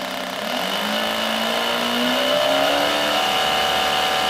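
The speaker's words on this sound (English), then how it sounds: "I'm going to run it right the way up to max RPM and just keep an eye on what happens to the sparks" A test bed engine with dual power ignition runs up toward maximum RPM, around 2000 RPM, a loud continuous mechanical drone whose pitch climbs gradually and steadily throughout.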